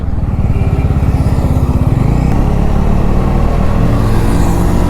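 A 250cc motorcycle cruises on a road during a weekend ride from Tirupati to the beach, its steady engine drone loud and close throughout with a rumbling low throb and continuous wind roar.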